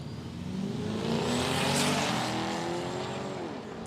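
Turbocharged Holden VK Senator drag car launching down a drag strip at a raceway, engine roaring hard and building steadily in a single sustained full-throttle pull, loud and close, with no talk over it.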